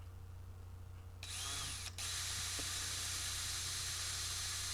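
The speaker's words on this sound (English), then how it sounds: "then I'll go down to the drill press and widen the holes" A drill press whirs up sharply while widening holes to 3/16 inch in plastic, briefly dips, then runs on at a steady high-pitched whine over a low background hum.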